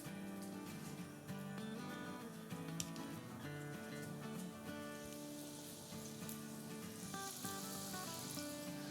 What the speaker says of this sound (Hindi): तेल हमारा गरम है, तो बस इसको फ्राई करते हैं